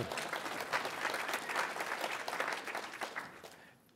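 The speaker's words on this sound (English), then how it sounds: "You can clap. It's okay." Audience applause at a networking conference after a speaker's talk; a room full of clapping that holds steady for about three seconds, then quickly fades out.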